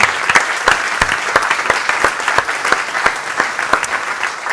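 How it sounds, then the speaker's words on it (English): A TEDx audience at Católica Lisbon SBE breaks into steady, fairly loud applause, dense overlapping claps continuing for several seconds. "we should also give a round of applause for the fantastic production team"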